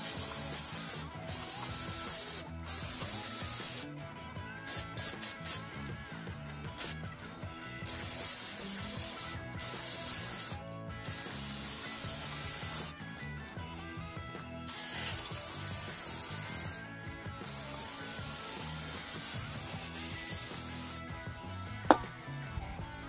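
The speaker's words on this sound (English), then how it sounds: "So I'm going to give that a quick spray and wipe down" Spray and wipe-down of old brake pads from a 1955 International Harvester truck: repeated bursts of close aerosol hissing alternate with scrubbing and rubbing, with short gaps between passes and a faint click near the end.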